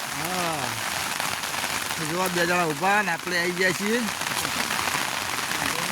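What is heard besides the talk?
heavy rain falling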